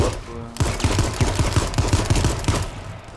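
A weapon fires a rapid burst in the battle-royale game H1Z1, about a dozen sharp shots in quick succession. The burst is loud and close, following a short electronic tone.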